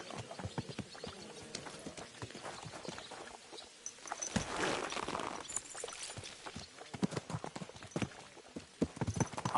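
Horse hooves clip-clop in an uneven walking rhythm in the video game Kingdom Come: Deliverance II, sharp close knocks with a brief rustling, blowing noise in the middle before the steps resume.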